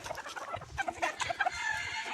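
Desi country chickens at a poultry farm cluck and chatter in a busy overlapping chorus, close and moderately loud, with no talking.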